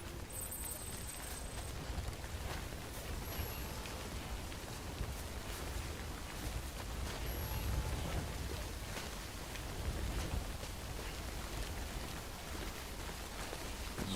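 Timefall rain from the video game Death Stranding pours steadily throughout, a dense, even patter of drops with a few faint tonal game sounds drifting over it and no voices.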